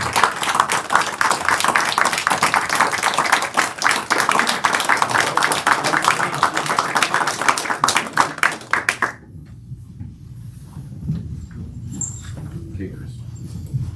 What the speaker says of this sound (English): At this point, I'd like us to give a round of applause to a great guy.